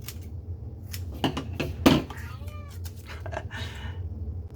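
A cat meows near a crafting table, a few short cries rising over a low room hum, with light rustling and tapping between them.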